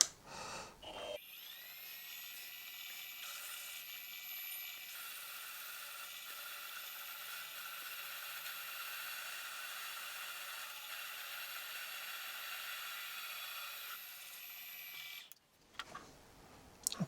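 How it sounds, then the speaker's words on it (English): A half-inch reamer on a Morse taper cuts a hole through a base casting for a Quorn Mk3 tool grinder, giving a steady high-pitched whine with a buzzing edge that holds for about fourteen seconds and then stops abruptly. "Finally go in with the 1/2 inch reamer."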